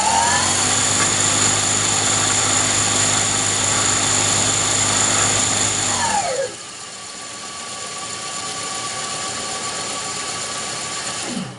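Rotary encoder spun by a motor at 2000 to 3000 RPM, giving a steady, close mechanical whir with strong tonal whine that drops sharply and runs on at a lower, quieter level near the end.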